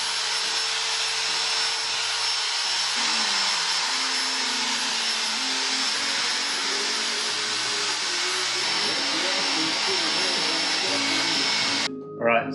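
A motor-driven wire wheel grinds rust off a motorcycle swingarm in a loud, steady whine at reduced speed, holding constant for about twelve seconds before cutting off abruptly near the end.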